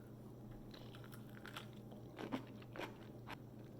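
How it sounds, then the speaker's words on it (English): Someone bites into a crunchy homemade dill pickle flavored with red chili flakes and chews it, giving a few sharp, close crunches over a faint, steady background hum. "Salty, crunchy, a little bit spicy from those red chili flakes."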